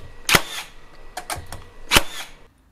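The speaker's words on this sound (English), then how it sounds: "So you do have to constantly keep firing new nails into the damn thing." A 36V HiKOKI metal connector nailer fires nails in sharp, separate bursts: two loud cracking shots with a few lighter clicks between them, close and clear with no speech.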